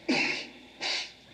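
A single sneeze bursts out close by, followed by a second, softer exhale-like burst, with no talk over it.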